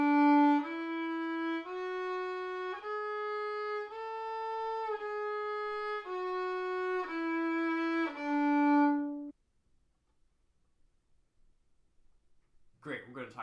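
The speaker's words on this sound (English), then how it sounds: "This is what it looks like and sounds like on the violin." A bowed violin plays a slow sequence of sustained notes for about nine seconds, then stops into near silence before a brief voice begins at the end.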